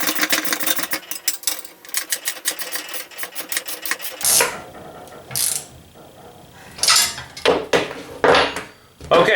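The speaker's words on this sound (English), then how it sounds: "then we're going to take the ratchet and then just tighten this up." A ratchet tightens a nut on a SWAG V4.0 Portaband table, a fast close run of sharp clicks at first, followed by looser bursts of metallic clicking and clattering with short pauses between them.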